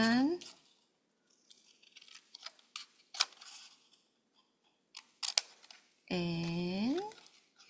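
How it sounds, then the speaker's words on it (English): Scissors snip through paper along a drawn line for a daylight savings time craft project, a few short, crisp cuts heard between a voice, spoken in bursts, nearby and fairly quiet. "follow the line and cut"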